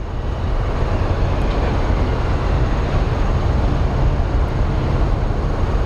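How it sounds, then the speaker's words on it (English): Airliner landing at Phoenix Sky Harbor airport, a steady broad roar of engine and air noise that holds at an even loudness throughout, heard from a distance with no voices. "looks like we have a landing incoming"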